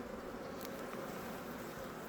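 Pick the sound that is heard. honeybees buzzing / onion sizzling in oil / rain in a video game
honeybees buzzing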